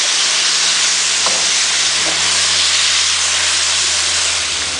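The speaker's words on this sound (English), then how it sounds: "I'm just going to stir it until it's all thoroughly coated with the sauce." Black pepper chicken sizzling and being stirred in sauce in a hot pan, a loud, steady frying hiss throughout with faint utensil scrapes.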